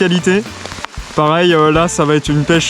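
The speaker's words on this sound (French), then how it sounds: "Il pleut vraiment des cordes." Heavy rain pours down during a fishing outing, a steady hiss and patter running beneath a man's close, continuous talking.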